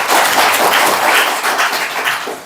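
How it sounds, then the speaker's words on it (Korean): A church congregation breaks into brief applause, a dense burst of many hands clapping at close range that holds steady for a couple of seconds before trailing off. "박수."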